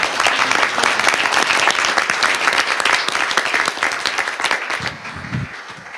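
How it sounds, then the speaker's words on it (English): An audience applauds at a state bill signing ceremony for landmark social media legislation, a loud, dense, sustained clapping from a crowd that thins slightly near the end. "Round of applause."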